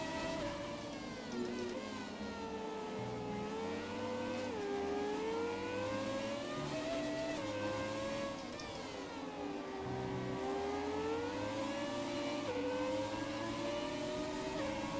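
Formula 1 car engine in the F1 2017 racing game, a loud continuous high whine that climbs in pitch and drops sharply at each gear shift, repeating through the whole stretch with no talk over it.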